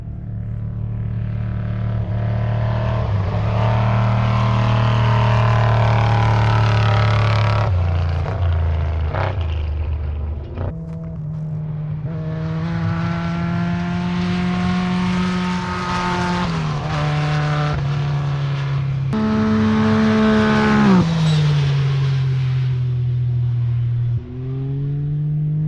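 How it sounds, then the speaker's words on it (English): A desert race truck at the Jackpot 250 off-road desert race approaches with a loud, sustained engine roar whose pitch rises and falls through gear changes as it nears. No talk is heard. "Okay, so we hear the Simcoe truck coming up."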